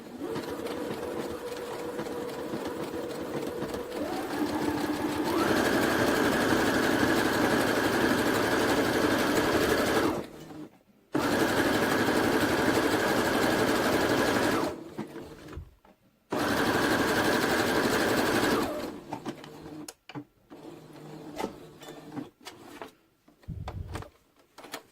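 Sewing machine stitching a blue tunic, trying a new stitch with a side cutter, running in several long steady bursts separated by brief stops, loud and close, with a speed change early on and short clicks near the end.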